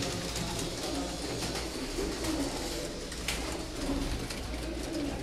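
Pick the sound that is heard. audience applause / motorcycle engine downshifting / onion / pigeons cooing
pigeons cooing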